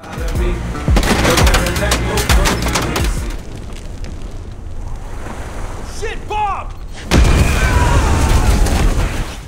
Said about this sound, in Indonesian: Saat bom sudah meledak, Lee dan kawan-kawan pun muncul